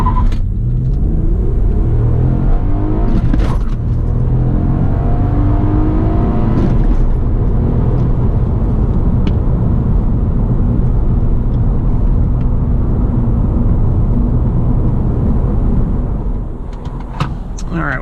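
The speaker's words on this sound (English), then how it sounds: "I'm going to see if I can get a quick 0 to 60 run here." A 2007 Honda Accord V6 with a manual gearbox accelerates hard from standstill to 60 mph, its engine droning and climbing in pitch through gear changes under constant road rumble, heard from inside the cabin.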